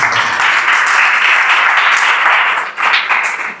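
A church congregation applauds during a sermon, a loud continuous wash of many hands clapping that dips briefly and resumes before fading.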